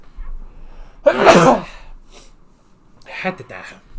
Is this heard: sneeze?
yes